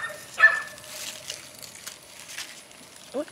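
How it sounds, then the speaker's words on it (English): A small dog gives a few faint, distant yips and barks outdoors by a pepper garden, with quiet background noise around them. "What is she barking at?"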